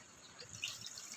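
Water pours into a cooking pot of mung beans on a home stove, a short faint trickling splash that swells briefly midway, with no voices.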